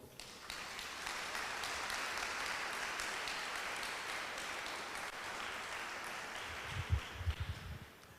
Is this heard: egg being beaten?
no